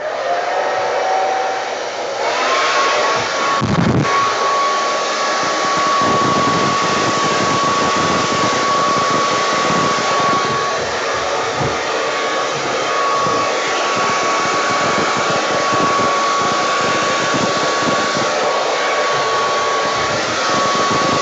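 A hair dryer blasts a steady, loud, roaring airflow across thick acrylic pour paint, running continuously for the whole stretch with a faint whine rising early on and no voices over it.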